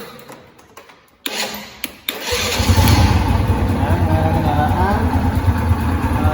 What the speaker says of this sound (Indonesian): Setelah itu kita nyalakan kendaraan.